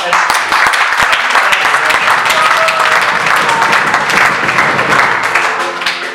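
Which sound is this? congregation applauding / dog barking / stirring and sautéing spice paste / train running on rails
congregation applauding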